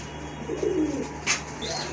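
A pair of Indian Bombay white pigeons gives a soft, low coo close by, followed by a brief higher chirp, over a faint steady hum.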